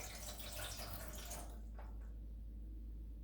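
Water is poured into the tray of an indoor kitchen grill, giving a soft, steady trickling splash that stops about halfway through and leaves only faint background hum. It is quiet and close, and no one speaks.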